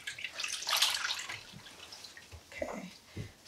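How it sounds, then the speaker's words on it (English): A washcloth is rinsed in running water during a nursing-assistant bed-bath routine: a short splashing, hissing burst of water near the start, then softer drips and faint sloshes, close and fairly quiet. "I'm going to rinse."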